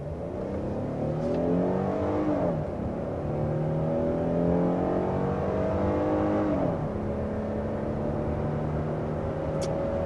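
A 2023 Hyundai Palisade XRT pulls uphill to 60 mph, its engine note climbing steadily through the gears with two distinct shift dips, loud and close from inside the cabin.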